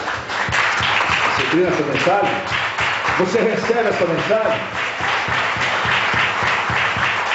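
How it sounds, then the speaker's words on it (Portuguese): A church congregation applauds during an evangelical deliverance service, steady dense clapping filling the room for several seconds while a preacher keeps speaking loudly over it. "Coloque-se em pé e aplaude Jesus."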